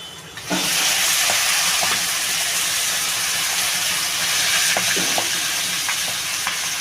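Washed mixed vegetables hit a hot wok for a Bengali vegetable dish, setting off a sudden loud sizzle that holds as a steady hiss with occasional stirring clinks.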